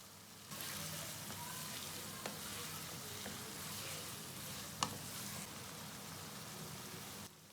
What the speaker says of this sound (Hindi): अब हम इसे भूनेंगे 1 से 2 मिनट तक, मीडियम फ्लेम पर ही भूनना है इसे